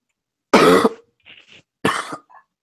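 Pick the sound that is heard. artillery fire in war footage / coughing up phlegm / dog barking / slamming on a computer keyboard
coughing up phlegm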